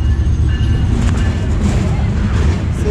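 A freight train drawing closer, a steady low rumble of rolling cars with faint clatter and occasional high squeals, loud and continuous throughout, with voices talking over it now and then.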